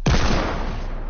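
Gunfire in the video game Fortnite: a loud, close shot bursts out at the start and its echo decays steadily over about a second.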